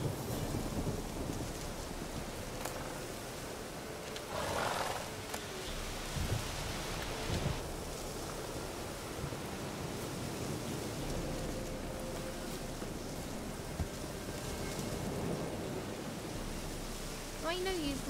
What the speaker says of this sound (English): Also, the rain is falling sideways.